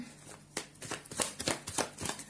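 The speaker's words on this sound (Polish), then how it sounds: "Już wcześniej tasowałam kartę, także jeszcze teraz proforma." Tarot cards are shuffled by hand at close range in a quiet room, giving a soft, rapid series of papery riffling slaps and flutters with no talking.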